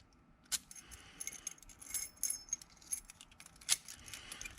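Keys jangle and clink in scattered bursts while being checked during work on rough mortise lock cylinders, fairly faint and close, with two sharper metallic rattles standing out and no talking.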